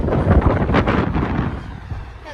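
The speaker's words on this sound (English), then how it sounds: "It's windy." Heavy wind buffets the microphone in low rumbling gusts, loudest at first and easing slightly, with a faint voice mixed in.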